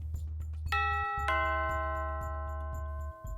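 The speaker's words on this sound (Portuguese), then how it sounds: "Alguém tocou a campainha da frente." A front doorbell chimes twice in a quiet house, two bright ringing tones with a lingering decay, heard close and alone over a low steady hum and faint ticking.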